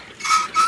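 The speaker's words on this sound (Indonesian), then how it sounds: "salah satu alat untuk mengusir hama burung" A wooden bird-scaring rattle, pulled upward, clatters in two quick bursts, a loud mechanical ratcheting sound close by.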